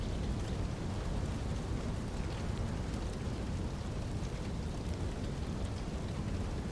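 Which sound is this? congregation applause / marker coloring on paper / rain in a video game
rain in a video game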